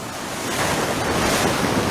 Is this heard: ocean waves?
yes